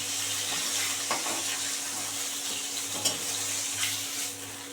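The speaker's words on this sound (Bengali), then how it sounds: "এই মাছগুলো ভালো করে কড়া করে ভাজা হয়ে গেছে, এবার তুলে নেবো।" Rohu fish pieces fry crisp in hot oil in a pan, a steady close sizzle with occasional scrapes and light metal clinks from a utensil turning them.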